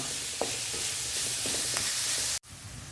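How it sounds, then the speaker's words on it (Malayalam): Sliced onions sauté in a pan for chicken masala gravy, giving a steady soft sizzle with a few light scrapes of stirring. The sound runs evenly, then cuts off abruptly near the end and resumes more quietly. "ഇപ്പം നമ്മുടെ സവാളയൊക്കെ നല്ലപോലെ ഒന്ന് വഴന്ന് വന്നിട്ടുണ്ട്"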